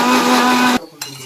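Kitchen blender grinding onion and tomato into a paste, a loud steady motor whir that cuts off abruptly, then a brief clunk, with no talk.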